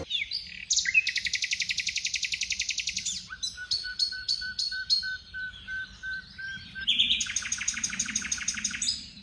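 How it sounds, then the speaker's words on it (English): Birdsong outdoors: several birds chirping and trilling in rapid repeated bursts, with a long steady whistled note in the middle, clear and fairly close against a quiet background. "instead of listening to the bird sounds, to the bird songs"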